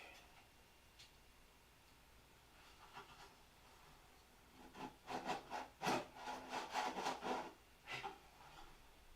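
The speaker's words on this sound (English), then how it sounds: "We're gonna sand the inside of the fuselage too," Rhythmic scratchy rubbing of sandpaper on the inside of a wooden fuselage, quiet at first, then a run of close, brisk back-and-forth strokes, no voices.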